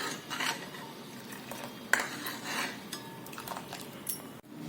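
A spoon scrapes and clinks around a pot of urad dal porridge with vermicelli (urad madge) as it is stirred, giving light, irregular metallic taps and scrapes at close range with no talk.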